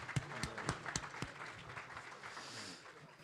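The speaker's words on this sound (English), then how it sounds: "Big round of applause, please." Audience applause at a Muslim Heritage Month expo's imam panel in New Jersey, a short, fairly quiet patter of claps from a modest crowd that thins out toward the end.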